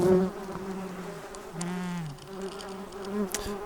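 Yellow jacket wasps buzz close by in a backyard, a continuous droning hum that rises and falls as individual insects pass near, with no voices.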